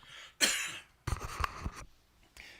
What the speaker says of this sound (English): It's dry cough.